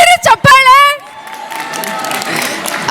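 After a brief spoken phrase, an audience at a Kannada Rajyotsava event breaks into sustained, moderately loud applause mixed with crowd noise.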